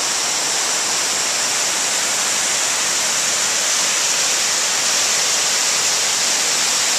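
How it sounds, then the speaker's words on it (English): Codornices canyon waterfall, a steady broadband rush of falling water that stays loud and unchanging throughout with no voices. "At the Codornices waterfall."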